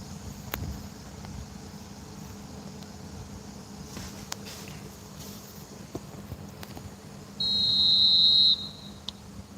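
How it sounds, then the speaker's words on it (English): In the eFootball video game, a referee's whistle blows one sharp, sustained blast to start the second half of a football match, heard over a low crowd-and-pitch ambience. "There's the whistle then to start the second half."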